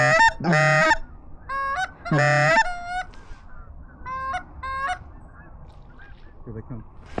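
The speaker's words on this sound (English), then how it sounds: "Here come the geese." Geese honking loudly as they fly in over a flooded grass field, two strong bursts of honks followed by scattered nearer and farther calls.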